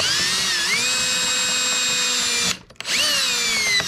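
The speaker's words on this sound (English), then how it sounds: "I'm going to drill another hole." A power drill bores a hole while installing an electric ATV winch on a utility trailer, whining steadily at high speed, pitch shifting slightly, then stopping briefly before spinning up again; close and loud.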